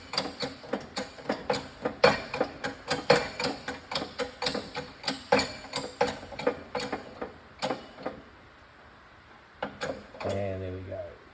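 A shop press works on parts during a Chevy LQ4 Suburban engine rebuild, giving a close, steady series of clicking, ratcheting knocks at a regular pace, then a brief pause and a short tonal hum at the end, with a voice talking throughout.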